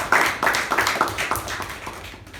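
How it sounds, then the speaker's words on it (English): Small audience at a club meeting gives a round of applause, a short burst of scattered, fairly close hand claps that tapers off over a couple of seconds without speech. "give him a huge round of applause."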